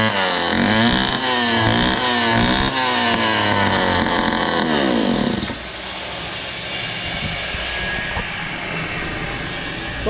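A 43cc brush cutter engine with a clogged exhaust runs loud and close, revving high with a wavering, pulsing pitch for about five seconds before dropping to a steadier, rougher idle.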